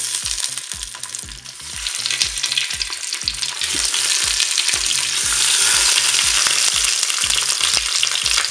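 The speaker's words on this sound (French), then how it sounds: "je vais mettre les cailles dans la cuve." Quails browning in hot olive oil inside a Cookeo multicooker give a steady, loud sizzle and crackle that builds slightly over time, with no talking.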